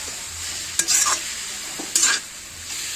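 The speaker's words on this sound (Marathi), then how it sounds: "कोबी ढोबळी कांदा परतलेला आणि स्प्रिंग कांदा, कांद्याची पात" Cabbage, capsicum and onion sauté in a pan for veg noodles, a steady soft sizzle broken by two short bursts of stirring and scraping, with no talk.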